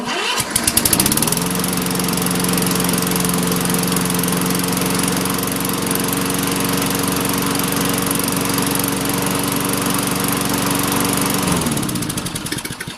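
A gasoline lawn mower engine catches after a propane torch start, then runs steadily and loudly at a constant drone for about twelve seconds before it cuts off, close up with no talking.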